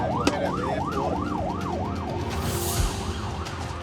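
An Australian ambulance siren wails on a lights-and-siren run, its pitch sweeping up and down in a steady, fast rhythm. The siren is loud and close, running continuously over low road and engine rumble, with no talk.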